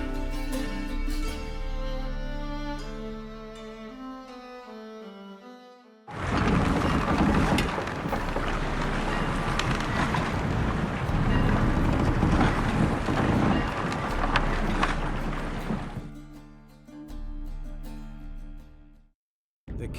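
A sailing ship setting out to sea in The Witcher 3 video game: soft music gives way to a loud, sustained rush of wind and water that fills several seconds, then fades back toward music.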